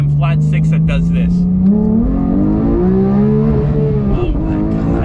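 A Porsche GT3 Touring's 9,000 RPM flat-six revs hard, rising in a loud, smooth wail heard from inside the car, with a brief voice over the first moments.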